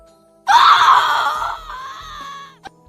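A woman lets out a single loud, close scream in a fantasy audiobook scene, a sustained shrill cry that trails off into a quieter wail before breaking off.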